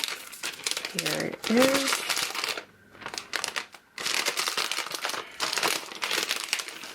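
Plastic film crinkles and crackles as it is peeled off an iPad Pro 9.7 box, with loud bursts of rustling broken by short pauses and a person talking over it.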